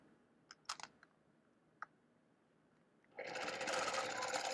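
Sewing machine stitching a guitar quilt, starting after a few light clicks and snips, then a loud, rapid continuous whirr of stitching up close with no talk.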